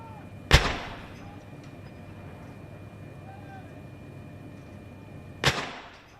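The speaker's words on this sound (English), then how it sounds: "the sight and smell and sound of this gun salute, which lasts for 62 firings" Two loud, sharp blank artillery rounds from a ceremonial gun salute at Tower Wharf, about five seconds apart, each a booming crack with a rolling echo. Low ambient rumble and faint background voices fill the gap between shots.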